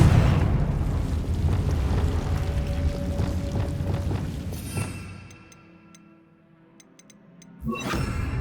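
A Confringo fire spell explodes in the video game Hogwarts Legacy, a loud rumbling blast that slowly fades out, followed by faint chimes and a second sharp burst near the end.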